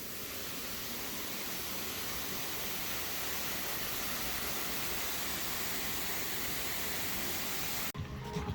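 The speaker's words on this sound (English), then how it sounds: "waterfall" Waterfall at the Canada Pavilion in Epcot, a steady broadband rush of falling water that stays loud and constant for about eight seconds before cutting away.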